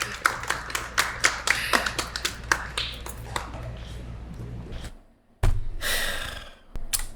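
Audience applause for a man on stage at a live dating-show event, starting as sharp scattered claps, swelling into a steady dense roar of clapping, briefly dropping out, then returning full and close.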